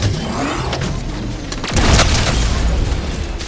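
A cannon fires in the video game Fortnite, giving one loud, close boom partway through over steady game background noise.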